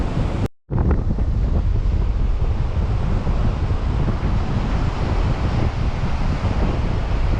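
Strong, steady wind roars and buffets the microphone, with a low surf-like rumble underneath; a brief dropout near the start, otherwise continuous.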